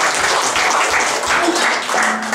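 Congregation at a Sunday church service in Pademangan claps together, a loud, steady wash of applause filling the hall throughout.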